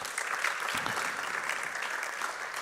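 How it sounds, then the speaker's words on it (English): Audience at a national elections town hall applauding: a dense, steady wash of many hands clapping together, fairly distant and even throughout with no pauses. "you deserve a round of applause"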